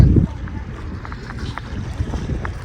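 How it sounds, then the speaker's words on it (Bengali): Strong wind buffeting the microphone outdoors near water, a heavy low rumbling gust at first then steady blustery noise throughout. "অনেক বাতাস"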